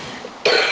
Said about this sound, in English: Sorry, still have a cough